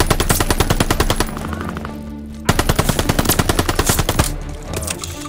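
Rapid automatic gunfire in the video game Call of Duty: Vanguard, with loud close bursts of fast repeated shots, a brief pause, then another sustained burst, and no speech.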